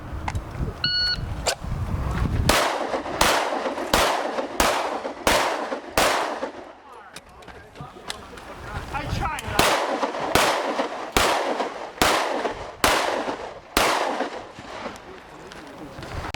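Pistol shots at an outdoor IPSC practical shooting match: a brief timer beep, then a long run of loud, sharp reports in quick uneven bursts, pausing briefly midway before continuing at a steady pace.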